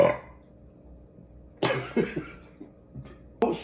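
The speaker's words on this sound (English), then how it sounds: "That's a triple burp" A man burps three times in a row after a foamy beer, each belch short and loud with brief gaps between, close to the listener, following an initial cough-like burst.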